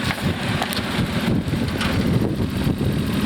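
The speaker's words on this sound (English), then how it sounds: "RB engines tend to be a little bit noisy" The RB engine of a 1989 Nissan Skyline GTS-T Type-M runs at a steady idle, a rough broadband hum close by with a wind-like hiss over it and no talk.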